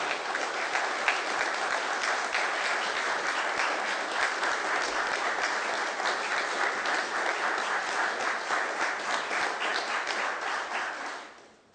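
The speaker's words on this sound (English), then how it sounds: "let's give them a round of applause for these accomplishments" Sustained audience applause at a news conference on postsecondary education, dense steady clapping from a large crowd lasting about eleven seconds before quickly fading out at the end.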